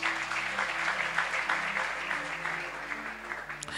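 A church congregation applauding at a Sunday morning service in Lubumbashi, with steady, dense clapping that runs for a few seconds and then cuts off abruptly.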